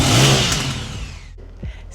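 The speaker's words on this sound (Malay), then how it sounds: "Exhaust dia pula guys, bunyi memang deep." A Honda Rebel 1100 cruiser motorcycle's exhaust gives a brief deep rev that swells and fades within a couple of seconds, heard up close.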